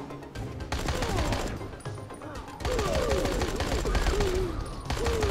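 Rapid bursts of weapon fire from the video game Dying Light crackle in uneven volleys, with loud game sounds and someone talking over the shots.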